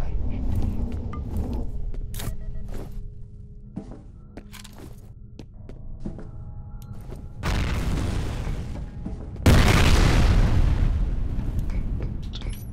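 A base exploding in the video game F.E.A.R., deep booming rumbles growing, then a loud sustained blast-like roar near the end, over scattered clicks and low thuds.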